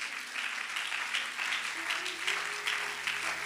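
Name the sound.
congregation applauding for the Lord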